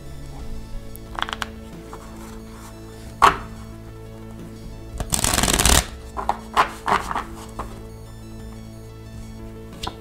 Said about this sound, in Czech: Když tady rozkládám ty karty